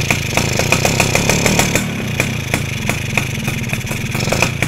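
A two-stroke motorcycle engine held at steady throttle while its carburetor air screw is slowly turned, giving a continuous buzzing drone with rapid rhythmic firing pulses, close and loud throughout without speech.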